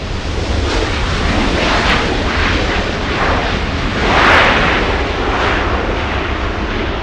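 A jet airliner lands on runway 24 right at LAX, a loud, continuous broadband engine roar that holds steady throughout with a slight swell near the end.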